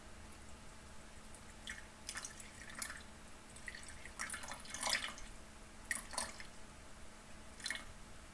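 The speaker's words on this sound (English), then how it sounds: "I'm going to be putting in 50 grams of water." Water trickles and drips into a bowl on a kitchen scale while sourdough starter is being fed, a quiet, close pouring with scattered splashes and no talking.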